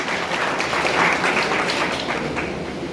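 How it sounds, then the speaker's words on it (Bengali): A school audience at a health-awareness drama gives loud, sustained applause, a thick clatter of many hands clapping close by at an even level throughout. "জন্য জোরে হাততালি"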